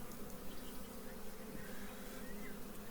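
Carniolan honeybees hum softly and steadily during a hive inspection in cold weather, with a continuous close swarm buzz.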